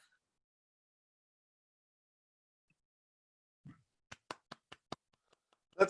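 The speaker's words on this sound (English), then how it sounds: "Back on for just the clapping." After a reading at a community poetry night held over a video call, participants clap: a short burst of about five quick, sharp claps, then a louder rustle, sparse and close, following near silence.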